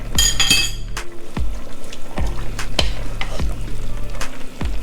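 Soy sauce poured into sukiyaki in a hot pan sets off a steady sizzle and fry, punctuated by about nine sharp, regularly spaced utensil clinks and scrapes as the pan is stirred, close and loud.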